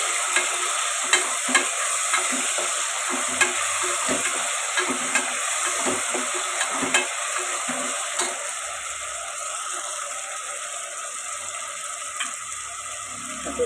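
Green chillies and kasuri methi sizzle in hot oil, a steady close frying hiss punctuated by regular light clicks and scrapes of stirring, with no voices.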